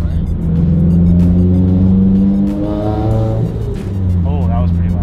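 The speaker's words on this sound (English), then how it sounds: "It seems better with the blowout valve, I think." Turbocharged Subaru BRZ fitted with a blow-off valve, its engine revving up loudly and droning close by before easing off with a whooshing release, while people talk over it.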